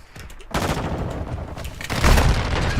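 Dense gunfire in a tactical shooter video game, several weapons firing in overlapping bursts that are loud and close, with a heavy blast near the end and a voice shouting briefly.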